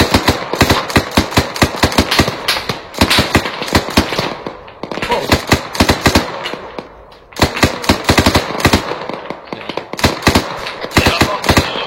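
Loud machine gun fire in rapid, repeated bursts separated by brief pauses, with sharp close-range cracks and occasional voices.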